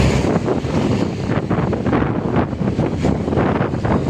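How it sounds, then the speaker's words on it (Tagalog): Strong wind gusts at a riverside bridge, roaring and buffeting the microphone in a continuous loud rumble with no voices. "lumakas ang hangin"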